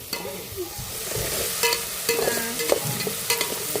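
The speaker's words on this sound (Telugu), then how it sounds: "అల్లం వెల్లుల్లి పేస్ట్ అనేది మనకి బాగా ఫ్రై అయింది కదా" Ginger garlic paste frying with tomatoes in a pan, cooked on a rooftop for bagara rice and chicken curry: a steady close sizzle with scraping stirs and clacks of a utensil against the pan throughout.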